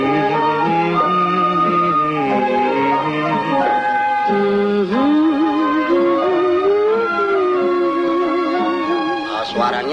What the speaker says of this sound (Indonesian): Itu bunyi macam suara orang menyanyi, Pak Jin.